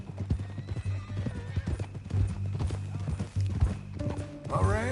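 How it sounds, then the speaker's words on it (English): Horse hooves clip-clop steadily in Red Dead Redemption 2, with a horse whinnying and snorting nearby under ongoing conversation and a low musical drone. "That a new horse?"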